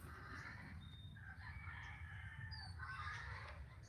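On a Philippine island, chickens cluck and a rooster crows a short distance away, faint but steady against an outdoor background.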